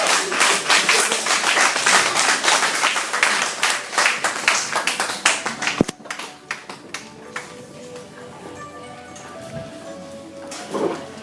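Church congregation clapping loudly and steadily for several seconds, then tapering into scattered claps and quieter room noise.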